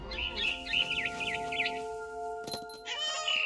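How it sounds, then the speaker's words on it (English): In the video game What Remains of Edith Finch, high, quick bird chirps repeat in a short run over a steady electronic hum, then a few more tweets follow after a soft clatter. "Then I heard chirping outside my window."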